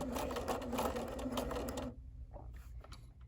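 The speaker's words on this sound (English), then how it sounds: "To stay stitch the pleats, I just go really nice and slowly over the pleats, stay stitching them" A sewing machine running slowly while stay stitching pleats on a Guatemalan gabacha garment, a close, steady mechanical whir for about two seconds before it stops and leaves quiet handling noise.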